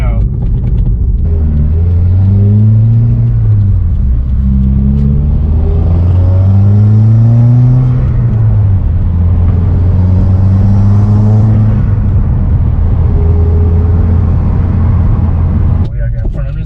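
A Subaru WRX with a Cobb Big SF intake and stage 1 tune revs repeatedly, its engine tone rising and falling in loud close sweeps with turbo spool audible, while people talk over it.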